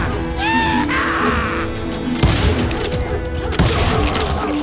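Covering gunfire in Call of Juarez: Gunslinger, a Western shooter: scattered loud gunshots crack out amid a battle, preceded by a brief rising tonal whistle and steady background din.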